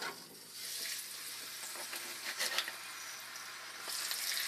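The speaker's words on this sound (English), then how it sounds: "Now that the oil is hot, we're going to put in our halibut." Halibut fillets seared in hot olive oil in a pan give a loud, continuous hissing sizzle that swells briefly midway and again near the end.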